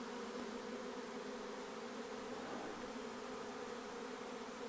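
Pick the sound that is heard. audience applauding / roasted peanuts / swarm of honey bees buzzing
swarm of honey bees buzzing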